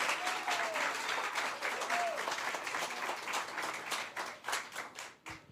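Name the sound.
congregation applauding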